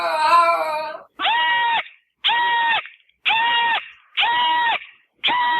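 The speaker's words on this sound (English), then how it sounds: "I'm going to say the screaming goat." Screaming goat call, one long harmonic yell followed by five evenly spaced loud, sustained screams with brief silences between them, each sounding alone and close.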